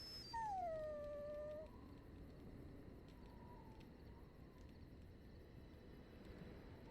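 A dog in a video game lets out one loud, drawn-out howl that bends downward, then fades into faint whimpers over a quiet ambient background.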